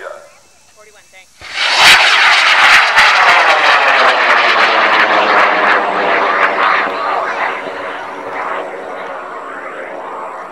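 A high-power rocket on a CTI M840 motor lifts off at the LDRS 38 launch event: a sudden, loud roaring burn breaks a short quiet and then slowly fades as it climbs away, with voices faintly heard in the crowd.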